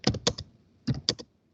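Keystrokes on a computer keyboard while typing a command into a Windows search or Run box: two quick bursts of three or four taps each, separated by a short pause, close and clear with no talk.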